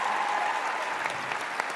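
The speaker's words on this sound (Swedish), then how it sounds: "En stort varm applåd till han" An arena audience gives warm applause, a steady, even wash of many hands clapping, moderately loud and unbroken, with no voices standing out.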